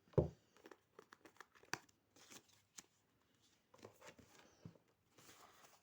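Paper packaging rustles and crinkles as it is pulled from the box of a three-outlet extension cord with USB ports and surge protection, in a quiet room: soft, intermittent crackles with one sharp tear near the start.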